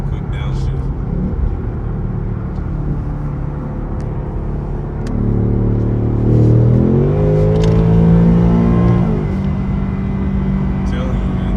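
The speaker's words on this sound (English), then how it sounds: "Give y'all a quick downshift." Car engine rumbling low, then revving up in a rising sweep during a quick downshift before settling back, close and loud with a steady drone throughout.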